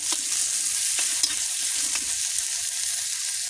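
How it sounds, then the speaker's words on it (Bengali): Coconut paste sautéing in a pan with chopped tomato and salt, a close, continuous frying hiss with a few light stirring taps and no voices. "স্বাদ মতো লবণ দিয়ে দিব নারকেল বাটা এটাকে কষাবো সামান্য"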